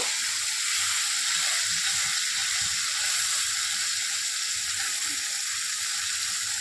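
Marinated masala for chicken chaap cooking in hot oil, a continuous loud hiss of frying with faint low movement beneath, steady and unbroken, with no talking.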